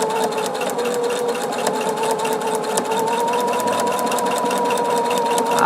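A sewing machine stitches a quarter-inch seam through fabric in a steady, even whirr with a fast mechanical ticking rhythm, close and continuous throughout with no talking.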